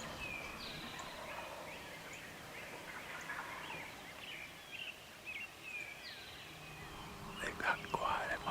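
Wild turkeys on the roost early in the hunting season gobble repeatedly from a distance in the woods, among chirping songbirds, with louder gobbles and rustling near the end.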